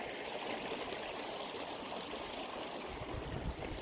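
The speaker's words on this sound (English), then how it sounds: "I do love water, love the river." River water flows steadily on a woodland walk, a continuous broadband rush with a bit of trickle, moderately close and unbroken, no voices.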